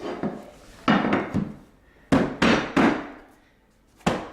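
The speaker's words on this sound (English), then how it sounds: "you can use one of these hammers, which is designed for hardwood flooring. Then just keep tapping it" A flooring hammer taps hardwood floor boards into place: sharp, close wooden knocks, about eight in an uneven rhythm, each ringing briefly before the next, with no talking.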